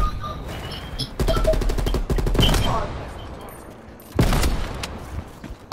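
Artillery strike in the Call of Duty Cold War beta: rapid bursts of booming blasts and gunfire-like rattling come in two loud waves, with a fading rumble between them and no talk.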